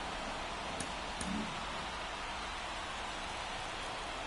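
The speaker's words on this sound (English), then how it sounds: "This rain is not letting up." Steady, hissing rain falls over a baseball stadium in an MLB video game, a soft continuous wash of noise with a couple of faint brief taps early on and no voices.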